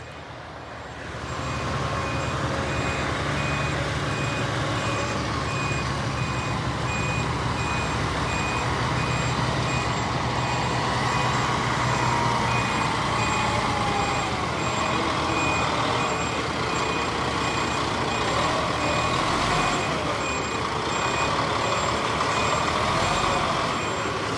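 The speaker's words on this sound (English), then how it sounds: "we've got a cement lorry coming in" A cement lorry arrives at a building site and backs in. Its reversing alarm beeps steadily and evenly over the continuous rumble of a nearby truck engine, with no talk.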